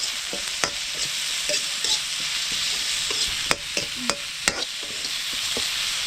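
Mushrooms being stir-fried in a pan, with a steady, loud sizzle and repeated sharp scrapes and clacks from stirring, heard up close with no talking.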